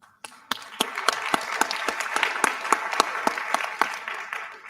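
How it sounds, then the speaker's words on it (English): Applause at a teaching seminar, starting abruptly and holding as a dense, steady patter of many hands with a few loud individual claps punctuating it, fading slightly toward the end. "So let's give an applause for all of you."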